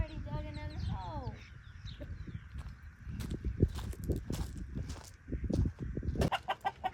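Farm chickens clucking and scratching about as they come to eat, an early burst of clucks then scattered close footsteps and pecking taps, with faint voices in the background.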